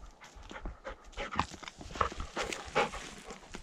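A dog pants outdoors in the wild in quick, rhythmic huffs. The breathing is close and moderately loud, mixed with light footfall-like thumps and movement noise.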